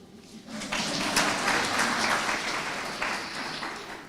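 An audience at a university conference on gender-based violence breaks into clapping, building quickly after a brief quiet start and holding as a steady, full round of applause.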